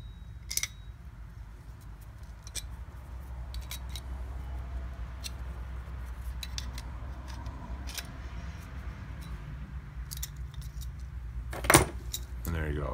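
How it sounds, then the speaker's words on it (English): A wrench turns a bearing puller on a Mercedes ML-class ABS motor with bad bearings: sparse metallic clicks and clinks over a low background hum, with a sharper jangle near the end, close by. "I'll give it a couple more turns of the wrench"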